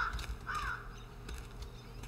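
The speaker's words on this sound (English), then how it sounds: "Shut up, crow." A crow in the horror game Anna caws a few times near the start, harsh and fairly close over a quiet, low ambient drone.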